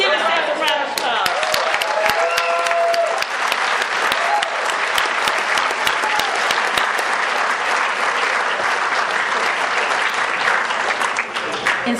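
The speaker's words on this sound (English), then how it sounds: "Give yourself a round of applause." Sustained applause from a gala audience at an anniversary celebration, loud and continuous clapping with scattered cheers that fill the hall for the whole stretch, with a voice speaking briefly near the start.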